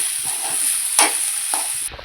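Brinjal vangibath gets mixed in a pan: a few short scraping stirs, with a sharper one near the middle, over a constant high hiss, up close and brief.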